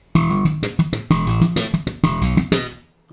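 Electric bass plays the fourth bar of a rock/funk riff built on octaves with ghost notes, a punchy rhythmic run of plucked notes ending with a sliding fade, heard alone.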